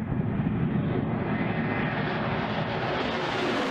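Powerful engine of a US Air Force supersonic bomber running during ground testing and maintenance, a steady, loud, continuous roar with a broad rumbling low end that holds constant throughout, with no voices.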